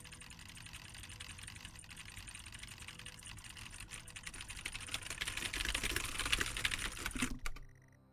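Clicky keyboard typing from the video game Stories Untold, a steady run of rapid clacks that grows denser and louder toward the end before stopping abruptly.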